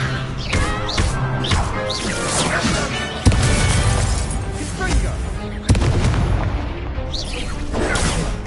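Spells are cast in Hogwarts Legacy as a loud, dense run of crashing blasts and booming impacts, with two sharp hits standing out against the constant roar.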